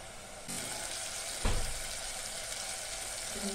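Tomato masala with ginger and garlic frying in oil, a continuous bright sizzle that flares up when the pan is stirred, close by with no talk.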